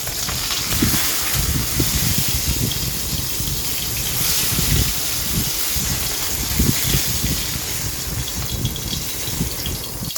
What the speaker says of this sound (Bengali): প্রথমে মাছগুলো আমি অল্প তেলের মধ্যে দুই পাশ লাল লাল করে ভেজে তুলে রাখছি